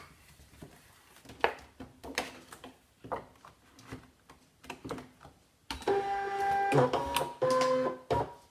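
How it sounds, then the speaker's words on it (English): A ScanNCut cutting machine working on dark blue and grey vinyl starts with a series of sharp mechanical clicks and short whirs. Sustained motor whining follows, with the pitch stepping up and down as the blade carriage moves, close and fairly quiet. "I'm going to try and cut this, or 2 lots of vinyl at once"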